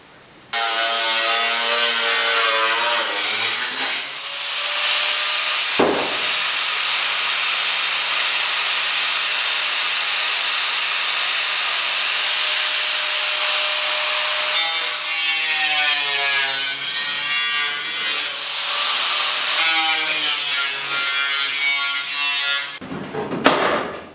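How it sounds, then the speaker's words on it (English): Angle grinder cutting rusted fender metal on a 1939 Chevy two-door, a loud continuous high whine held for about twenty seconds with small shifts in pitch as it bites, close up and alone. "So I guess we just get the grinder out,"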